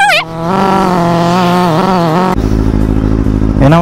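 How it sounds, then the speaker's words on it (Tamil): A motorcycle engine repeatedly fails to catch. Loud, near revving whines rise and fall, then a sudden rough, stuttering idle chugs along before sputtering, with no talking. "டே மாப்பிள்ள வண்டி ஸ்டார்ட் ஆகலடா உண்மையாலடா."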